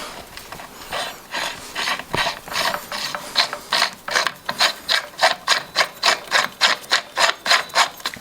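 Pedal spanner ratcheting an e-bike pedal tight on a mid-drive conversion bike, a steady run of crisp clicking strokes that starts loose and irregular, then settles into a fast, even rhythm, close and alone.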